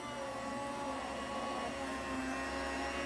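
Electric meat slicer running on home-cured bacon, a steady, close motor whine and hum holding even throughout with no pauses.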